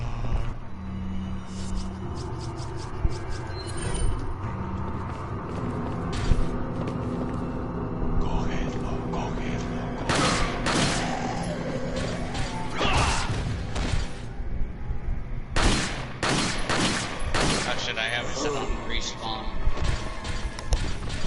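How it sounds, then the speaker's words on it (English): A shotgun reloaded and fired in Resident Evil 4, with repeated sharp blasts and mechanical clacks in irregular bursts, plus crashes and scuffles from combat, loud and close over steady game noise. "well, let me reload this weapon."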